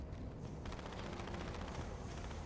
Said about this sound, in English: Obviously, around the corner, there's gunfire.